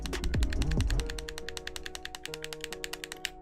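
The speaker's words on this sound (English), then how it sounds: "when you dribble it sounds like that" Rapid, evenly spaced bouncing taps of a basketball in NBA 2K18, a quick rhythmic patter following a brief burst of louder thuds at the start.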